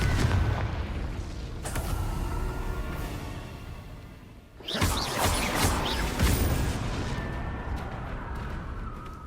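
Confringo blasting spell explosion in a Hogwarts video game: a heavy booming blast with crashing debris, set within continuous loud combat noise, then a second burst with crackling impacts, no talking.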